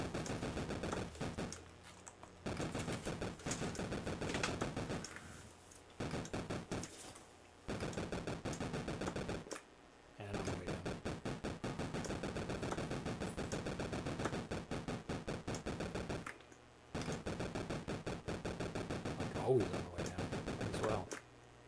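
Rapid electronic minigun fire from the Atari 2600 homebrew game Minigun Miner, heard as dense bursts of chiptune rattling separated by brief silent gaps, loud and continuous across most of the stretch.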